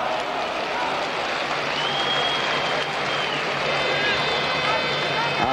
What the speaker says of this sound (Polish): Akcje piłkarzy węgierskich wzbudzają brawa na trybunach.